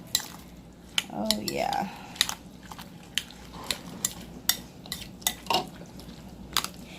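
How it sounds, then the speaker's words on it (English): Corn kernels being mixed with sauce in a cup, a series of close clinks and scrapes of a utensil against the container in an uneven rhythm, with a brief spoken remark amid the stirring. "I'm just going to put half of this pot in there and mix it with that yummy sauce"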